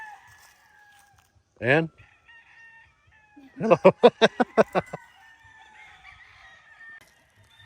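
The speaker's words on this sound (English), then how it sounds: "There's our chicken friends." Homestead chickens and a rooster: a single loud crow first, then a rapid burst of about eight sharp clucks close by, with a brief spoken greeting and quiet background between.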